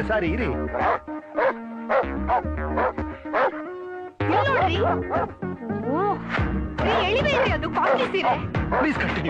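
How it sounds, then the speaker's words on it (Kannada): A dog barks repeatedly in sharp, close yips during a Kannada film comedy scene, with the barking mixed in with people talking throughout. "ನಾಯಿ ಇದನ್ನೇ ನೋಡಿ ಬೊಗಳ್ತಾ ಇದೆ."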